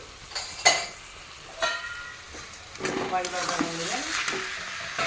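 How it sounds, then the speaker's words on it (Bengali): Cabbage with salt is stirred in a pan, with sharp metallic scrapes and clinks of a utensil over a rising sizzle. A voice can be heard briefly in the middle. "বাঁধাকপিটা দিয়ে দিলাম এখন দিয়ে দিই লবণ দিয়ে নেড়ে নেব ভালো করে"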